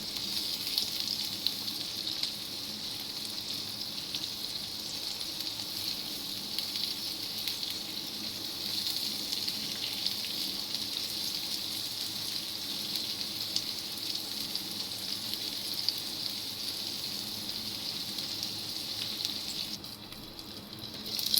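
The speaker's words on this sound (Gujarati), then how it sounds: "સરસ રીતે આપણે ડુંગળી સાતળી લીધી છે" Sliced onions fry in a pan, giving a continuous, even hiss of sizzling oil that holds steady and close for the whole stretch with no talking, then cuts off sharply at the very end.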